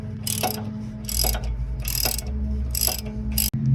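A ratchet wrench works loose the 18 mm wheel hub bolts on a 2002 GMC Yukon, close rapid clicking bursts repeating in a steady rhythm about five times, with a sharp metallic clack near the end.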